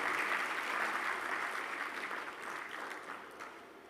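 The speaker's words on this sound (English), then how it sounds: "Big applause for our keynote speaker." An audience at an Africa technology summit applauds a keynote speaker, a dense, even wash of clapping that holds steady and slowly fades over a few seconds.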